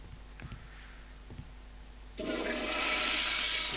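A toilet flushes in the video game Deus Ex: after faint clicks, a loud rushing surge of water starts and keeps building steadily, heard alone without talk.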